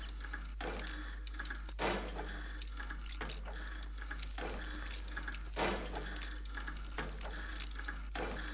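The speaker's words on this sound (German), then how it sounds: "Die hier will ich mal noch gießen." Water from a watering can trickles and splashes in a farming video game, a soft continuous pour broken by periodic brighter gushes, faint over a steady low hum.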